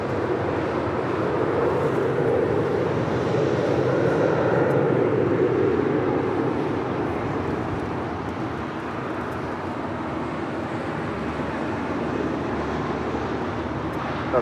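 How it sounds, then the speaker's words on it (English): Western Global MD-11 jet departing LAX runway 25 right, a loud broad roar of engines that swells early, then eases into a steady, slightly fading rumble as the aircraft rolls away. "we got the Western Global MD-11 taking off on 25 right at Foxtrot"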